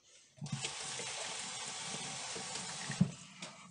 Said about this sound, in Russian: Все, руки сполоснула.